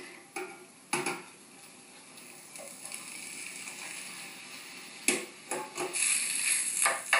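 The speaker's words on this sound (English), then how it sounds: "as I'm stirring them in, I kind of roughly mash them up" Diced potatoes being stirred into samosa filling with spinach and peas in a pan, with soft scraping and clattering of a utensil against the pan in a few bursts, quiet between.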